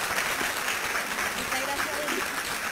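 An audience claps for a speaker at a conference, a steady, dense round of applause that holds at an even level throughout.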